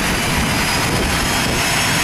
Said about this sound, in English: He's starting up his engines.